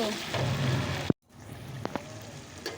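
Chicken and potato frying in a pan with green chillies, a steady hiss and crackle broken by a brief sharp knock and a moment of silence, then quieter sizzling with small pops.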